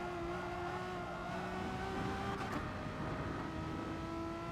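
A Renault Megane Gr.4 race car in GT Sport at the Nürburgring, its engine droning at a steady high pitch with a brief rise mid-clip, heard fairly quietly and alone without talk.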